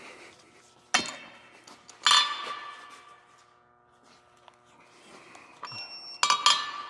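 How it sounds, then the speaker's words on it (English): A valve stem being knocked out of a 2019-2025 Hyundai Kona Electric wheel during a TPMS sensor install: three sharp metallic knocks, spaced apart, with faint clinking in between, close and fairly loud. "So I'm going to bust this valve stem out of here."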